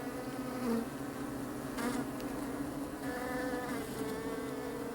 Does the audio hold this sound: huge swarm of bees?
yes